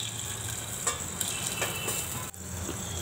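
Chicken leg pieces fry in a small amount of oil in a pan, giving a steady low sizzle with occasional soft pops and a brief clank near the end.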